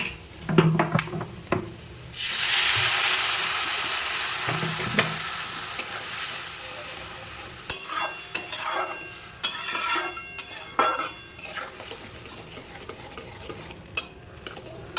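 Semolina roasting in a pan hisses in a sudden loud burst of steam as water is poured in, then fades into intermittent stirring with clinks and scrapes of a spoon against the cookware.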